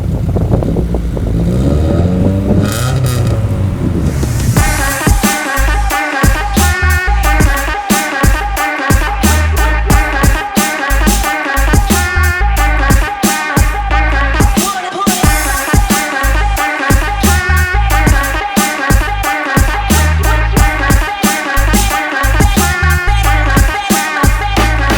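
A 1992 Toyota Corolla engine idles steadily and loudly, then settles into a rhythmic, pulsing running sound that continues throughout, close up with no talking.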